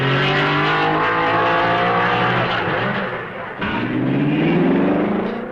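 1955 Belgian Grand Prix racing cars, a Lancia among them, roar loudly and steadily at Spa near Raidillon and Eau Rouge, engine pitch rising and falling as they pass, with a brief dip before the drone swells again.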